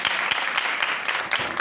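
The congregation of a Church of God in Shahpur applauds during a Palm Sunday service, many hands clapping in a dense, fairly loud burst with a few sharper claps standing out.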